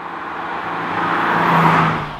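A BMW 840d xDrive Cabrio diesel drives through curves, a steady engine hum and tire roar that swells gradually toward the middle and then eases off.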